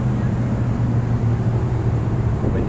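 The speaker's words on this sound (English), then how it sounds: "What you can hear is a fast food restaurant drive-through window." Steady low engine idle with a constant hum and broadband rumble at a fast food restaurant drive-through window, close and continuous.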